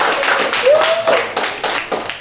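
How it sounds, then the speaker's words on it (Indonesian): Students in a classroom clap their hands together, a burst of crowded, overlapping claps rising and falling over about two seconds, with a teacher's voice talking over them. "Tepuk tangan dong kelompok 2."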